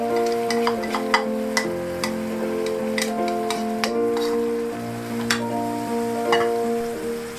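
A spoon stirs mushroom paprikash sauce in a pan, with soft sizzling under repeated light scraping and tapping clicks at an uneven rhythm, close and alone without talk.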